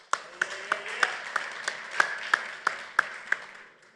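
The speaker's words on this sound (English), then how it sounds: "Let's give it applause." A series of sharp, evenly spaced claps, about a dozen in four seconds, over a soft background murmur from the audience at a Firebase tech presentation.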